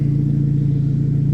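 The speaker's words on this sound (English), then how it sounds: "It's definitely good to hear it come alive though, and hear the engine." A Days of Thunder NASCAR replica road car idles with a deep, steady, meaty rumble, its V8-style engine running evenly with a throbbing low pulse and no talk over it.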